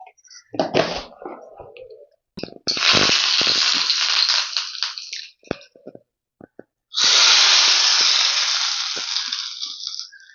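A mixer grinder runs with a jar of chutney, giving two long, loud whirring bursts separated by a pause, with short choppy pulses before the first.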